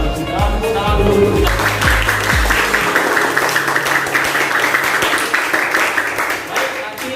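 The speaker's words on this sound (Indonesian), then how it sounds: "Kalau sudah, tepuk tangan dulu." Students applauding together in a classroom, a burst of dense clapping that carries on steadily for several seconds, mixed with voices and talk throughout.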